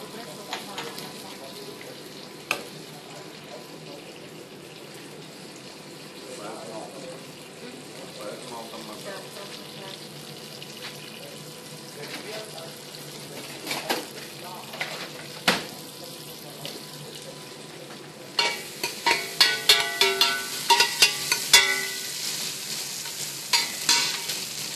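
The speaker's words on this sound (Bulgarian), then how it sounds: "Почва се запържа сланината." Bacon frying in a pan, a soft steady sizzle with occasional stirring clinks, then running tap water joins near the end, with quiet talk in places.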